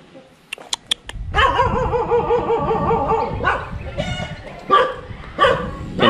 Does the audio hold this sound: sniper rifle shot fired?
no